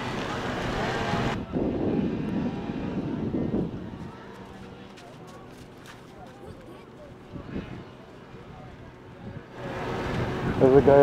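Wind gusts near a wildfire in San Bernardino, with smoke drifting toward houses, rush and buffet against the microphone in a steady roar that swells at the start and end, while a voice talks over it.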